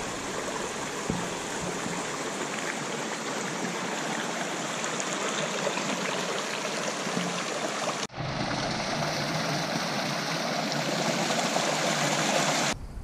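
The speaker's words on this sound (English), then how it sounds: "This is Little Hardy Creek." Little Hardy Creek flows by steadily and close, a continuous rushing and gurgling of water with no break in its level, on a backcountry backpacking route.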